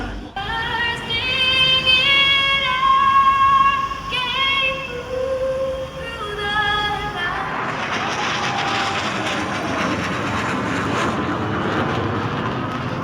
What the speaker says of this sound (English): What an epic flyover